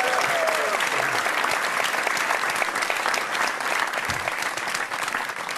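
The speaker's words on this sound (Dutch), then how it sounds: "Mag je een applaus voor Raoul Veldhuizen en Alex van Oostrom." A studio audience applauds, dense sustained clapping at full volume throughout, with a faint voice briefly audible beneath it.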